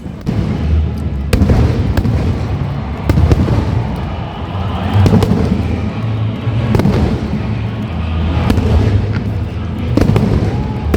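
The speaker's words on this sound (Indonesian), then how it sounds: "diakhiri dengan atraksi kembang api yang disambut meriah oleh seluruh masyarakat yang hadir" Fireworks at the PON XXI Aceh Sumut 2024 opening ceremony burst in repeated booms and crackles every second or two, loud and echoing over a crowd's murmur, with no clear speech.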